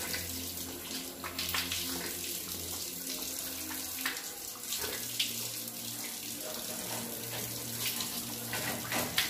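Tap water running into a sink while someone washes for ablution, a steady close splashing stream with irregular spatters as hands move under the flow, and no talk.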